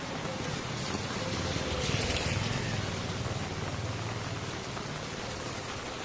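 Steady rain falls around someone walking along a street at night in Angeles City, a dense, even hiss that persists throughout without pause, no voices over it.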